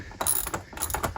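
Quick ratcheting clicks from cranking a bolt mechanism during a school bus conversion, a short close run of metallic pawl clicks with a brief pause partway through.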